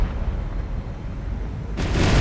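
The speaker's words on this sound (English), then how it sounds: "Oh, that was a beautiful magazine explosion." A ship's magazine detonating in the naval combat game War on the Sea, a loud, sustained rumbling blast that rises sharply near the end into a heavier, brighter roar.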